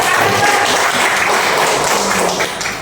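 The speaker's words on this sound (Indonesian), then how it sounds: "Tepuk tangan untuk kelompok ber." A classroom of students applauds a student group about to give a presentation, a dense, steady wash of clapping lasting about three seconds that eases off slightly at the end.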